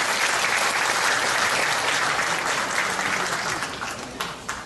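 Professors gathered at a national rally of public university faculty are welcomed with loud, dense applause that gradually thins out, leaving a few distinct claps at the end.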